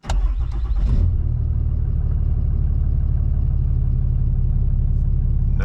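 A tuned Cummins diesel engine starts with a brief burst of clatter, then settles into a steady, loud, low idle that runs on evenly close by.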